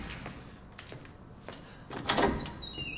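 A door in the survival horror game Resident Evil 7 slides and thuds shut, with scraping movement building to a heavier knock, then a faint high electronic tone. Nearby and moderately loud, with no talk over it.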